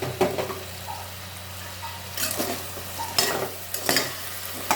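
Chicken pieces fry to golden brown in a pot for sotanghon soup, a loud, close, continuous sizzle with bursts of stirring and scraping swells, no voices.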